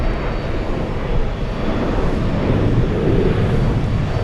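Lufthansa Airbus A340-300 jet arriving from Frankfurt at JFK, a steady, loud broadband roar of the four-engine airliner that swells slightly toward the end, with no voices present.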